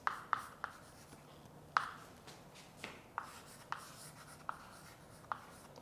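A pen or pencil writing on paper, a series of close, quiet strokes and taps at irregular intervals, with soft scratching between them and no voices.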